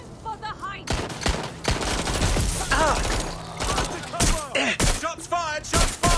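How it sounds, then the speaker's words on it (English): Gunshots in the Watch Dogs Legion video game, loud sharp repeated cracks and bursts firing irregularly, mixed with shouted voices and tonal game effects throughout. "Shots fired! Shots fired! Taking fire!"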